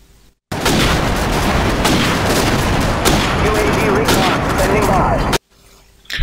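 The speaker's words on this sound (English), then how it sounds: "Flawlessly shooting 5 dudes, and you have 5 bullets before you have to reload." Rendered video game footage plays rapid gunfire, five shots before a reload, as a loud, dense burst of shooting and booms that starts abruptly and cuts off after about five seconds.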